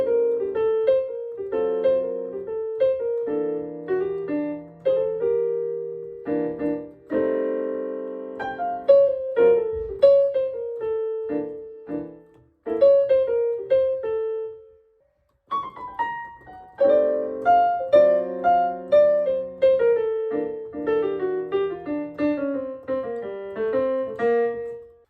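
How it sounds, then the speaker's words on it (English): Piano plays a blues scale over a minor ii-V-I progression, with a busy melodic line over sustained chords, clear and close, and a short pause midway before the phrases continue. "The blues scale over this progression will sound like this."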